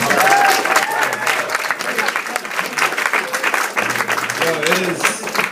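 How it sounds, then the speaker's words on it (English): Steady audience applause fills a Stanford event hall where artists perform, dense clapping throughout with a few voices and cheers rising above it. "Get another round of applause for Farah, working so hard."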